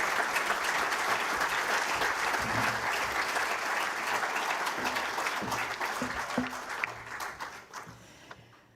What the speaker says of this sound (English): a big clap for Damien